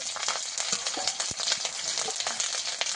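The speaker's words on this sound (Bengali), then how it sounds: "আদা আর জিরে একসঙ্গে দিয়ে দেবো তেলের মধ্যে" Ginger paste and cumin seeds sizzle loudly in hot oil, giving a dense, steady crackling hiss close up for the whole stretch.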